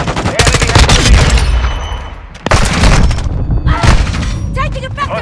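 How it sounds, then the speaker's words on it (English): Loud, dense gunfire from Call of Duty: Modern Warfare II rattles in rapid bursts with booming impacts and a short lull midway, while voices talk over the battle. "Taking effective fire!"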